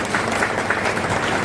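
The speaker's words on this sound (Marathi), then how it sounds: "मला वाटतं त्यांच्यासाठी एकदा जोरदार टाळ्या झाल्या पाहिजे" Steady, dense applause from an audience at a felicitation ceremony honoring meritorious students, filling the short moment evenly with no voices above it.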